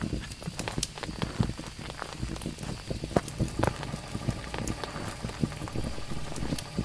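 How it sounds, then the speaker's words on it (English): Steady rain patters and crackles throughout in the horror video game Phasmophobia, a dense even hiss with scattered sharper drops, with no voices over it. "it's not raining hard enough to blow out the candles"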